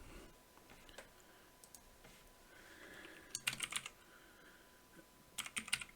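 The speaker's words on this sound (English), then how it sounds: "Pardon the clicking from my keyboard there." Soft keystrokes clatter on a computer keyboard while typing a PowerShell command, faint and scattered at first, then two brief bursts of quicker, louder clicks near the end; no one speaks.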